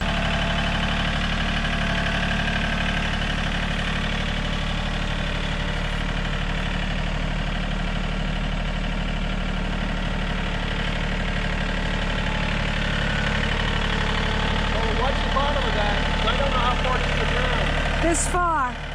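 A vehicle engine idles steadily and loudly up close for the whole stretch, a constant low drone with a faint knock, while people talk over it outdoors at a post-hole job site.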